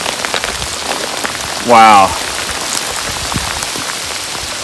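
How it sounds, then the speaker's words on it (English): Hail pours down on a hiker on the Appalachian Trail in the Roan Highlands, a loud, dense, steady hiss of pellets striking close by throughout, with one brief spoken exclamation partway through. "Hail is falling, just pouring on me."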